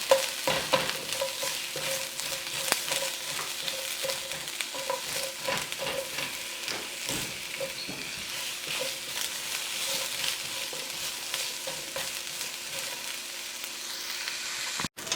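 Onions frying in oil in a pan until light brown, a steady close sizzle broken by frequent rhythmic scrapes and clicks of a utensil stirring, ending in a sudden knock.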